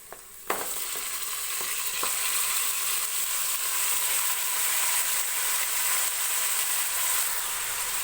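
Mutton pieces drop into hot tempering oil with a sharp splash, then a loud, steady sizzle of frying continues close by, broken only by a few soft clinks of stirring.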